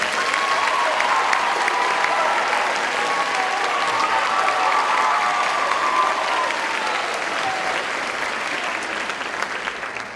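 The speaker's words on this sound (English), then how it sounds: "Please give her a round of applause." Steady, dense applause from a school promotion ceremony audience honouring Mrs. Ruggiero, sustained and even for about ten seconds with a slight fade near the end, no voices over it.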